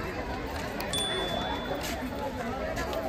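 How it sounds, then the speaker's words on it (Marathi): A large crowd gathered to see the tiger at Mumbai Zoo, a continuous hubbub of overlapping chatter with a few faint clicks and ticks, filling the space at a steady level. "वाघाला बघायला प्रचंड अशी गर्दी."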